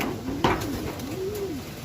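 Racing pigeons coo on an outdoor loop in Cavite on a drizzly day, low rolling coos repeating twice with a brief clack in between, fairly close.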